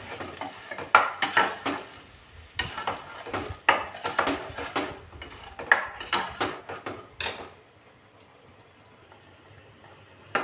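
A utensil scrapes and clanks repeatedly against a metal pan, stirring ground peanut paste in hot ghee, in an uneven rhythm, close by, then stops, leaving near silence.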